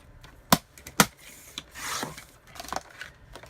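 A paper trimmer cuts card down to 5x7 size. Two sharp clicks sound as the card is set and clamped, then a soft sliding swish as the blade cuts, all quiet and close.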